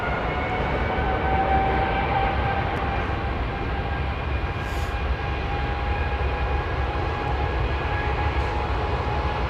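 Airliner with Rolls-Royce Trent 1000 engines, a sustained jet roar carrying faint steady tonal whines, even and moderately loud throughout, with no voices.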